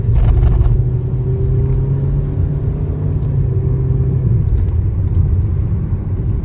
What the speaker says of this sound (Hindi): दिन में ज़्यादा ट्रैफिक है, गाड़ियों का भी और ट्रकों का भी